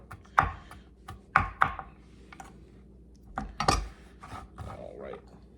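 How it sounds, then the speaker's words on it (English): A kitchen knife chops garlic, shallot and onion on a cutting board, giving a few separate, irregular knocks close by with soft scraping between them. "And we'll chop these a little bit more."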